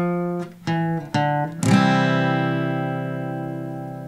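Guitar picking a lick on a single string: three quick plucked notes followed by a longer ringing note that slowly fades, close and clear with no voice.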